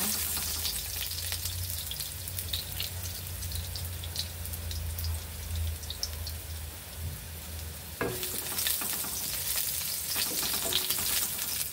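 Steady crackling sizzle of ginger frying in hot oil for Bicol Express, dense and close, with a brief clatter partway through as the sizzle brightens.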